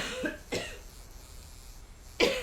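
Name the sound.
coughing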